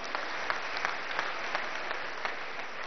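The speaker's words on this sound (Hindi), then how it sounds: "एक बार जोरदार तालियां उनके लिए हो जाए।" Steady crowd applause rises at an annual foundation-day function in Haridwar, a continuous wash of clapping with a few sharper claps standing out, heard alone with no talk.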